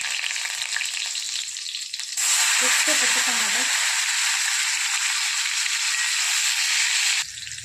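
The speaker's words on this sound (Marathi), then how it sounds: "तेल भरपूर गरम झाले थोडेसे जिरे कडीपत्ता" Cumin seeds and curry leaves sizzle hard in two spoons of hot oil for a pumpkin curry, a loud steady crackling hiss that jumps up sharply after a quieter start and stays dense before easing off near the end.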